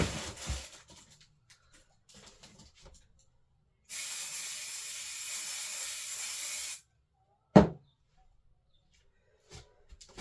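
Aerosol fixative sprayed over a pastel drawing from about six inches away, one steady hiss lasting roughly three seconds, close and clear, framed by quiet handling clicks and a sharp knock afterward.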